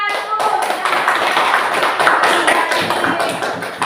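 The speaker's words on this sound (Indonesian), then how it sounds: "beri tepuk tangannya untuk kelompok 1" A classroom of students claps for group 1 after a discussion presentation, a dense, close burst of many hands sustained for about four seconds.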